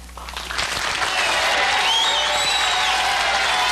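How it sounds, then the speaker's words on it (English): A stadium crowd rises to cheer one of their own, applause swelling within the first second into a loud, sustained roar of clapping and cheering that holds steady to the end. "The crowd rising as one to cheer one of their own."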